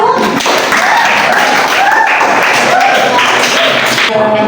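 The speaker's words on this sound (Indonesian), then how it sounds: "Berikan tepuk untuk kelompok 1." Classmates in a classroom clap loudly and continuously for a student group, a thick, close burst of applause with voices mixed in.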